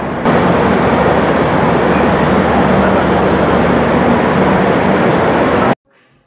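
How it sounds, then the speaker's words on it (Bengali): The Sealdah Puri Duronto Express pulls away, a dense, loud, continuous rumble and roar that holds steady for several seconds and then cuts off abruptly into near silence. "ঠিক ডট 8টার সময় আমাদের ট্রেন ছেড়ে দিল।"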